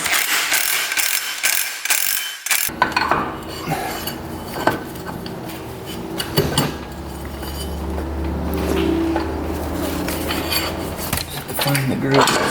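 A hand ratchet clicks rapidly while tightening a nut on a $250 ATV, in close, loud bursts of clicking broken by short pauses.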